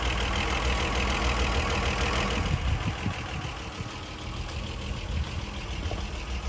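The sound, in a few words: Ford Granada 3.0 V6 engine idling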